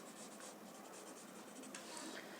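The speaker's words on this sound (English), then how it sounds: "use a chalk pencil to highlight it" A chalk pencil scratches and shades across paper in continuous light strokes, a soft, steady, close-up rasp with no voices.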